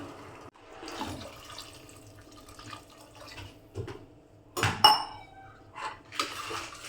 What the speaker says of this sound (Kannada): ಈಗ ಎಂಥದಲ್ಲಿ ಎರಡು ಲೋಟ ನೀರನ್ನು ಹಾಕ್ಕೊಳ್ಳೋಣ